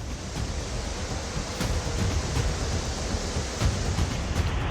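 Floodwater rushes past a dam in a constant, dense, roaring wash of broadband noise that holds steady and loud throughout, with no voices.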